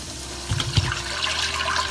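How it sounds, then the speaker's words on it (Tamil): Water is poured into a cooking pan of sautéed tomatoes for a lentil-ball kuzhambu, a steady splashing gush with a brief stronger surge near the start, close by in a kitchen. "நம்ம தண்ணி ஊற்றிக்குவோம்."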